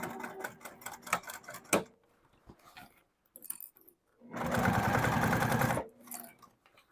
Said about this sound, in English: Oh, I'm also sewing on my main panel